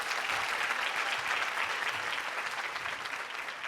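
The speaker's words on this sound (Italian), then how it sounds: "Fateglielo un applauso." Theatre audience applauding during a stage comedy performance, a dense, steady wash of clapping that stays loud and even throughout, with no voices over it.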